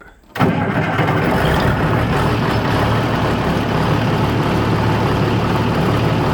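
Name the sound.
Oliver 1600 diesel tractor engine running rough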